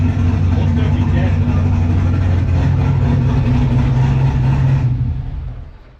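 A turbocharged 5.3 LS Vortec V8 in a Camaro with a Holley Terminator Max ECU runs loud and close with a deep, steady rumble, then dies away over the final second.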